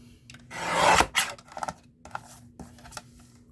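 A paper trimmer guillotine slicing through yellow cardstock: one long rasping blade stroke, followed by a few shorter scraping and sliding sounds as the paper is shifted, close and clear.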